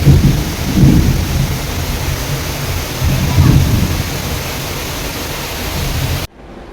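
A heavy downpour roars in a constant dense hiss, with low swells of thunder rumbling beneath it before the sound cuts off abruptly.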